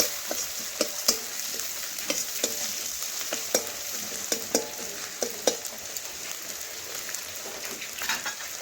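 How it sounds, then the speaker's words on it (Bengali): Chopped garlic sizzles in hot oil in a pan, a steady close crackle broken by sharp clicks and taps as it is stirred, with no talk. "এখন রসুন একটু হালকা করে ভেজে নেব।"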